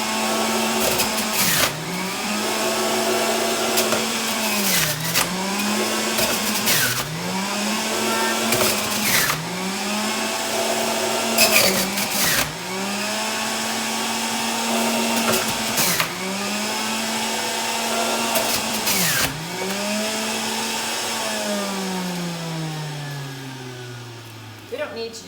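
A high-powered electric juicer separates tomato juice from pulp with a loud, steady motor whine that rises and dips in repeating cycles, running alone for the whole stretch before winding down at the end.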